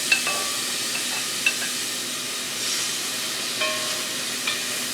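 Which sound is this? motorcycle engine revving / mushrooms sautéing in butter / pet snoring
mushrooms sautéing in butter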